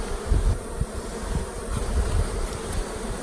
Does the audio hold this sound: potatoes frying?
no